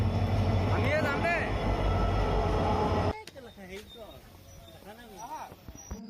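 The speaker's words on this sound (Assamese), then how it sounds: "বহুত দেৰি মূৰত এতিয়া ৰেল পাইছেহি" A train pulls into a railway station with a loud rumbling, clattering roar and squealing wheels, which cuts to a quieter platform scene with voices talking.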